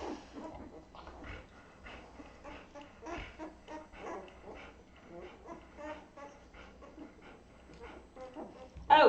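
A litter of young puppies whimpers and squeals in a kennel, many soft overlapping cries close by, continuing for several seconds with a louder yelp at the end.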